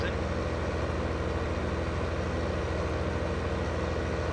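A brand-new tractor idles in Farming Simulator 2015, a steady low engine drone running unbroken and fairly loud throughout, with a faint voice talking over it.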